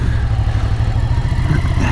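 A 2006 Ducati Paul Smart 1000 motorcycle engine running, a loud, steady low throbbing drone with a pulsing rhythm, close and alone with no talk.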